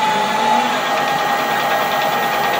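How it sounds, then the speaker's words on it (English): A metal lathe screw cutting at 350 rpm with a fine 4 thou feed gives a loud, steady mechanical drone with a faint whine, close and continuous throughout. "We'll go 4 thou feed per rev at 350 rpm."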